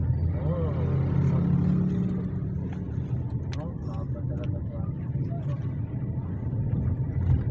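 Busy road traffic rumbles steadily, with a low engine drone of passing vehicles close by and people talking over it throughout.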